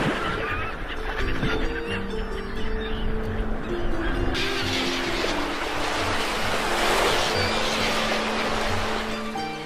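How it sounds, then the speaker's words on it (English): Sea surf washing steadily along a warm sunny coast, a continuous broad roar that swells louder in the second half, with goose-like honks and bird calls scattered over it. "the sound of the waves on the sea"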